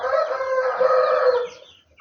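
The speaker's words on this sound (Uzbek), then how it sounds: "Mana bu xo'roz, oq qanoti ham xo'roz, yapon xo'roz" A single loud, close crow from a young Japanese rooster rings out for about a second and a half, then fades away.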